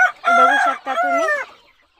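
Close, loud clucking and crowing-like calls from chickens at a poultry farm, a couple of short bursts over about two seconds with no talking.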